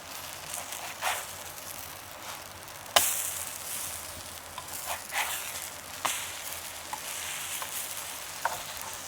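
French toast browning in a hot pan gives a steady soft sizzle and crackle, with a few sharper clicks and scrapes rising above the even frying hiss.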